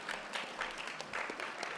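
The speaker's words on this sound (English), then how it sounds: "So let's give Akiba a round of applause for a job well done." Audience at a 2012 McNair graduation ceremony gives a steady, dense round of clapping in a hall, sustained and fairly close throughout.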